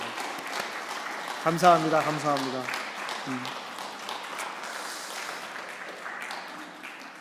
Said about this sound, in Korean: 우리 감사와 격려의 박수를 함께 나누었으면 좋겠습니다.